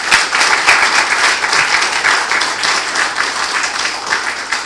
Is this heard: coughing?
no